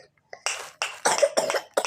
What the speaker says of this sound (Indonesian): Lagi batuk teman-teman.